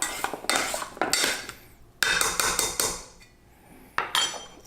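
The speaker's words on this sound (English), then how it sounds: "And then we'll mix that all up." A utensil clinks and scrapes rapidly against a metal bowl while dry sherry, soy sauce and Golden Mountain seasoning are mixed for vegan shaken beef, in several loud bursts of clattering separated by short pauses.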